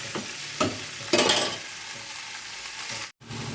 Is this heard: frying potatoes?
yes